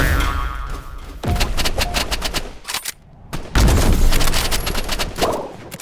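Loud gunshots in the video game Rivals: bursts of rapid automatic fire split by short pauses, with springy bounce sounds mixed in, close and dominant.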